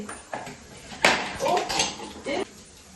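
A dish or vessel is picked up in a home kitchen, making a few sharp clunks and knocks against a hard surface, with people talking around it.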